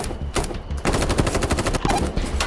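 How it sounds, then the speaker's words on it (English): Rapid bursts of automatic gunfire, loud and close, firing in quick repeated volleys with barely a pause. "I heard gunfire"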